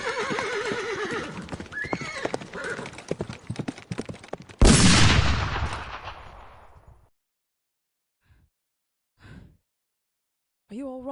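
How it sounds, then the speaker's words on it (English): A loud gunfire burst strikes a horse-drawn coach in an audio roleplay, following horse whinnies, hoofbeats and a startled sigh, then fading into silence with a few brief distant shots and a voice at the end. "we're being shot at!"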